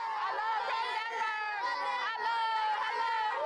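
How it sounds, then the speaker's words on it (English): Hundreds of villagers, women, children and elders, crowd around a car in a village, making a dense, steady hubbub of overlapping voices and shouts close by, with no pause. "Hundreds of villagers crowd around our car."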